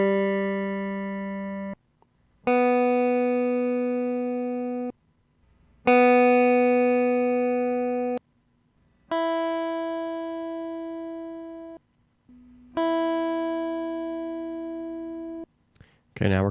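Electric guitar with an old pickup, with single notes on the higher strings ringing out clearly and slowly decaying, about five plucks separated by short silences, close and clean.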